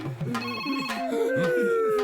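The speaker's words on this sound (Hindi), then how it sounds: "फोन उठा, उठा।" A telephone ringtone plays a repeating melodic ring close by, with a voice speaking over it.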